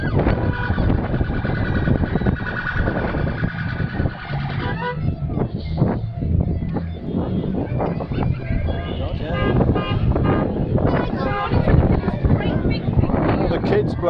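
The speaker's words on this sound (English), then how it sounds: "All the kids blowing the horns, that's all this noise is, nothing else." Many horns blown by kids at the Triumph factory visitor experience, a dense continuous blare of overlapping toots, loud and close, mixed with wind buffeting and voices talking over it.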